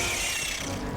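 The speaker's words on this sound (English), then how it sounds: "Mag's empty! Last reload!" A weapon reloading in Helldivers II, heard as a dense mechanical ratcheting clatter that fills the whole second at steady loudness with no speech.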